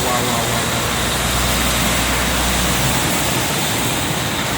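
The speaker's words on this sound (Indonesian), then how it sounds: "Hujannya deras sekali." Heavy rain pours onto the Jakarta–Cikampek toll road, a loud, dense, unbroken roar of water with a low rumble of passing traffic underneath.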